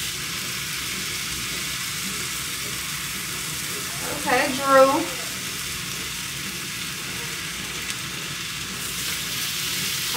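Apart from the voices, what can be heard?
food sizzling on a griddle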